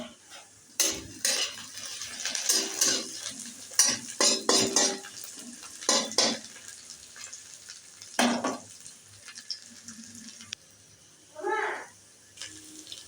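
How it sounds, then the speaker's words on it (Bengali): Chopped onion dropped into hot oil for aloo dum, bursts of frying sizzle with spatula stirring and pan clatter, intermittent and close, with quieter gaps between. "গরম তেলে আমি দিয়ে দিলাম পেঁয়াজ কুচি"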